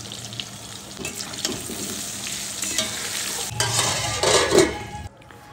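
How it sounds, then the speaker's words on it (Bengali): Potatoes fry in a pan with salt and turmeric, a steady close sizzle with stirring scrapes, growing louder and busier toward the end before cutting off abruptly; no one speaks. "আমি আলুটা ভাজতে দিয়েছি লবণ আর হলুদ দিয়ে"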